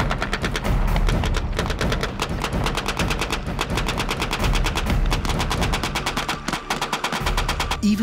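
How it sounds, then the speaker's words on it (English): A machine gun fires blanks in a military training exercise, long rapid bursts of sharp reports that keep up almost without pause. The shots sound loud and close, with a brief gap near the end before firing resumes. "Even though the weapons are only firing blanks, it's clear the machine gun controls the battle"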